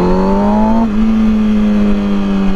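A 2006 Kawasaki Ninja ZX-6R 636 motorcycle pulling away in second gear, its engine note loud and close, a strained rising tone that dips slightly as the revs settle into a steady drone.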